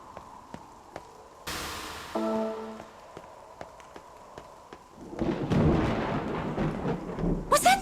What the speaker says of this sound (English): Was that thunder?